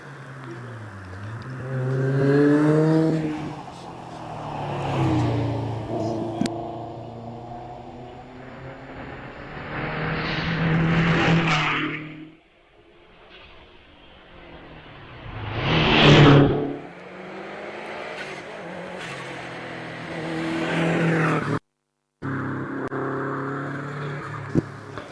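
A four-wheel-drive Mortaya hillclimb race car climbs a hill course at a British Championship event at Doune, its engine revving loudly through several gear changes, rising and fading with distance, with a brief gap near the end.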